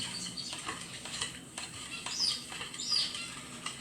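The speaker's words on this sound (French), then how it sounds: "On vient mélanger doucement." A utensil gently stirs crepe batter of milk and flour in a bowl, giving soft, irregular scraping and swishing strokes, close and quiet.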